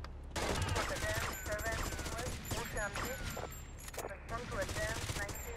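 Rapid bursts of gunfire in Vice City crackle over several seconds, with repeated shots, short pauses and game sounds mixed in, loud and close, with a voice talking over parts of it.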